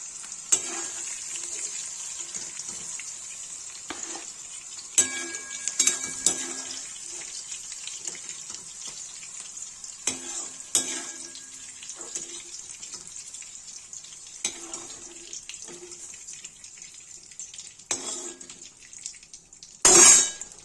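Onions and tomatoes going into a pan where mushrooms have been frying for a Kashmiri mushroom curry, giving a steady close sizzle with intermittent clinks and scrapes of stirring and no talk.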